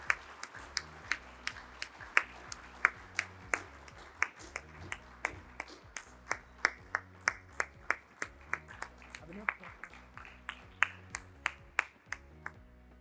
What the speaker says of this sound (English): a final round of applause for our brilliant speaker